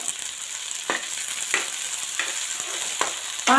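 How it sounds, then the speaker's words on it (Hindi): Guar beans with green chickpeas and salt sizzle steadily in a pan, a continuous frying hiss broken by a few stirring scrapes, close and fairly loud with no talk. "पाँच मिनट तक हम ऐसे गुआर को पका लेंगे"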